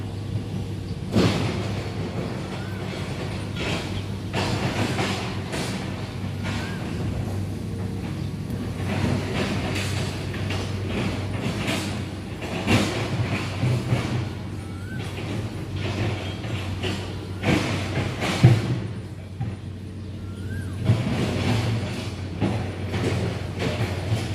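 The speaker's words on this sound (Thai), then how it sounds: "ธรรมดา261 นะครับ เดี๋ยวกำลังเข้าสถานีโพธารามนะครับ" Thai ordinary train 261 on the Bangkok–Hua Hin line rolls into Photharam station with a steady low rumble and rhythmic clattering of wheels over rail joints. A brief wheel squeal rises near the end as it slows.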